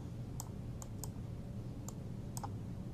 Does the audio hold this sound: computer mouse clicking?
yes